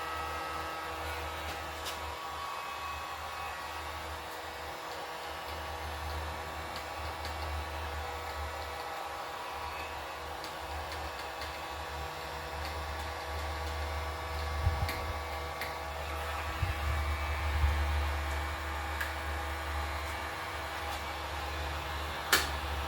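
Hot air blower running steadily on low heat to warm the plastic shifters of a 1991 GT Talera mountain bike, a constant airy whir with a few faint knocks near the end.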